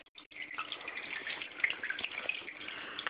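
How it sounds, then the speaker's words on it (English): A small waterfall runs inside a green anaconda enclosure, a continuous close splashing and trickling with bright droplet sparkle, moderately quiet and steady throughout. "I really love the waterfall"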